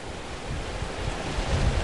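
Strong gusts from Typhoon Lawin roar across the microphone in Santa Ana, Cagayan, a broad, steady rush of wind noise that swells louder toward the end.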